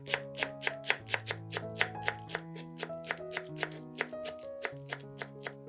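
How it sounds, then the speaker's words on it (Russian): A small bunch of green onions chopped with a knife on a cutting board, producing quick, evenly spaced crisp taps close up, the steady rhythm continuing throughout over soft background music. "Измельчаем небольшой пучок зеленого лука."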